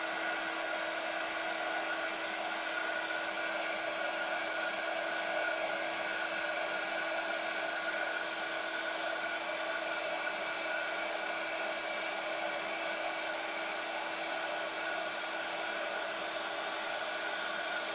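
Globeland backing pad on a polisher machine running nonstop at close range, a steady, loud, even motor whine with a hiss and no change in speed or pitch, heard alone without talk.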